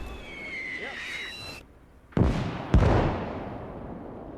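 White phosphorus mortar rounds bursting in a World War II battle game: two sharp, heavy booms about half a second apart, each trailing into a long rumbling, hissing decay after a brief lull.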